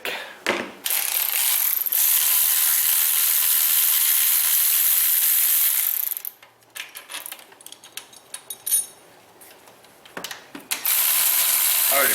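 A Milwaukee power ratchet spins bolts out on a vehicle with a charging system fault. The loud buzzing run lasts several seconds and stops, then come scattered mechanical clicks and rattles before another burst of the motor.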